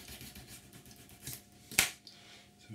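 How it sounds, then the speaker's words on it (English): A small razor saw back-cuts a plastic part on a 1/48 Eduard MiG-29 model kit, giving faint, quiet rasping strokes with one sharper scrape in the middle. "we're going to take a little razor saw and we're just going to back cut the inside"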